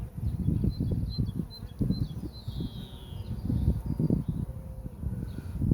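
Honeybees buzzing at an open hive during a spring colony inspection, a continuous low, fluttering hum close by, steady and moderately quiet with no talk over it.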